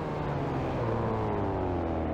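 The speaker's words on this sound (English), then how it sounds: "This car is very loud." A car engine in Garry's Mod revs loud and close, with a steady, droning roar that holds for a couple of seconds without a break.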